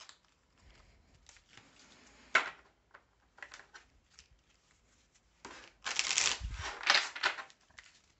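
Tarot cards being shuffled before a draw, quiet papery riffles and taps arriving in short bursts, with a louder, fuller flurry of shuffling toward the end.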